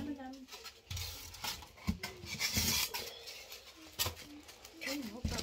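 Squeaky rubbing and scraping of styrofoam packing pulled from a parcel during unboxing, coming in irregular close bursts of squeals and rasps; voices are heard over it.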